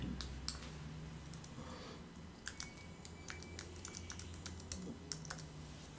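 Typing on a computer keyboard while entering a word into a dictionary search, quiet, irregular clusters of key clicks over low background hum, no talk.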